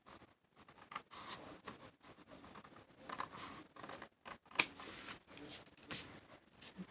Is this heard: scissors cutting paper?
yes